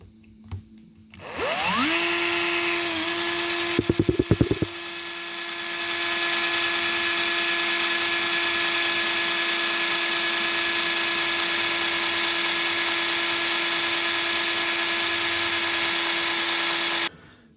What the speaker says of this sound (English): Okay, so I decided to drill the hole.